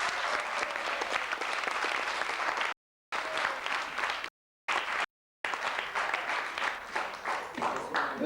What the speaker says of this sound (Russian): Это были аплодисменты людям, благодаря энтузиазму которых мы можем здесь играть